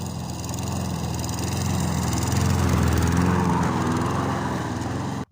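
A Briggs and Stratton Quantum 5hp lawnmower engine running loudly and steadily nearby while mowing, with a rough droning rumble that cuts off abruptly at the end.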